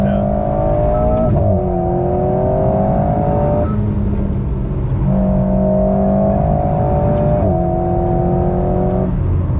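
A race car's engine drones and climbs through the gears on a circuit, each upshift marked by a quick pitch drop. A voice talks over the steady, loud engine.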